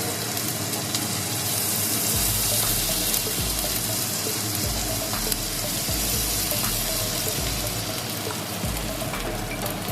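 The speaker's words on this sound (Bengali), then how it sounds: "দিয়ে আমি মশলাটাকে কিছুক্ষণ সময় আর একটু ভেজে নেব, যাতে কাঁচা গন্ধটা না থাকে" Spice paste with garlic paste frying in a pan, with a steady, loud, continuous sizzle throughout and occasional faint stirring clicks.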